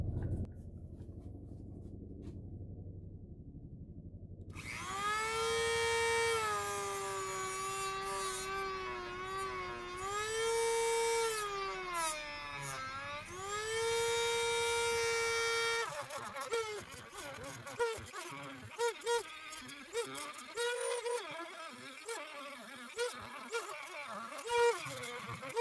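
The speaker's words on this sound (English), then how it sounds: "I think I'm going to use my Dremel tool to cut these" A Dremel rotary tool fitted with a metal cutoff disc cuts into an e-bike electric motor, a high, steady whine that shifts in pitch under load, then turns into harsher, choppier grinding bursts.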